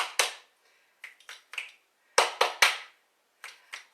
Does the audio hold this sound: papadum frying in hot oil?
no